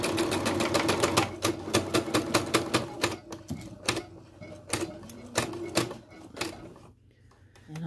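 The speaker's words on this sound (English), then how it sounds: "sew a small section just parallel to the fold, and then angle so that I'm coming into that center dot" A sewing machine stitches a double-pointed dart in fabric, running a fast, steady mechanical clatter that slows into separate stitches near the end, close and clear with no talk.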